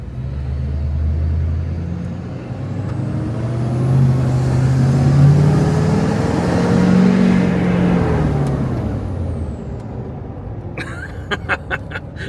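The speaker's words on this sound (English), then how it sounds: "Got me a 18-wheeler." A large truck engine rumbles and revs steadily, rising in pitch midway before easing off, followed by a few sharp clicks near the end.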